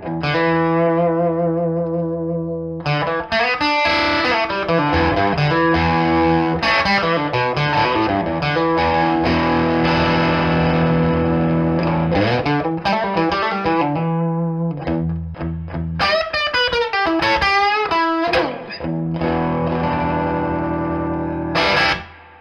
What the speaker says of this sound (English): this is going to give you that nice vintage plexi sound, but without too much saturation